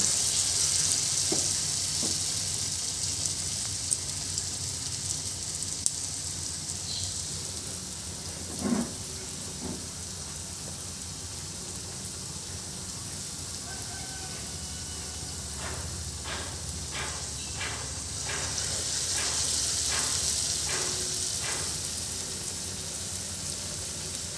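Carrot and coriander fritters fry in hot oil in a kadai on a gas stove, a continuous close sizzle with a burst of crackling and spattering as more batter drops in, no talking.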